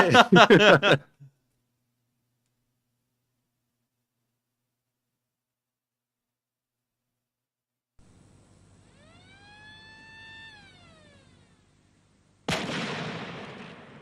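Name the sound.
cannon firing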